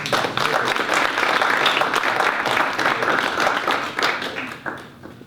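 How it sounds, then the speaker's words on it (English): An audience applauds student presenters at a big-idea tournament, with dense, steady clapping that fills the room for about four seconds before thinning toward the end. "Let's actually give them a round of applause"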